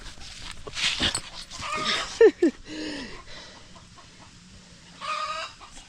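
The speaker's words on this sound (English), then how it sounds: "That's my dog, Bruno." A pet dog named Bruno in an African village gives a couple of sharp barks amid clucking chickens and other farmyard fowl, close by with short bursts and pauses.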